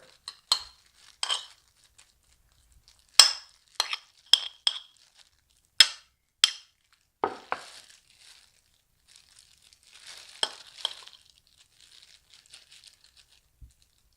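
Ingredients for avocado salmon fried tofu sushi mixed in a bowl, heard as a series of sharp close clinks and scrapes of a utensil against the bowl, coming in irregular bursts with a softer rustling stretch near the end.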